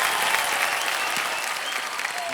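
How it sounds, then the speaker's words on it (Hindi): A studio audience on the KBC India quiz show claps steadily, a dense and even patter of many hands that stays at a constant level throughout. "हर बार घूमते हैं ताली बज जाती है।"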